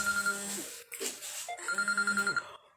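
An incoming WhatsApp call rings on a phone, a close, clear melodic ringtone in two bursts with a short break between them.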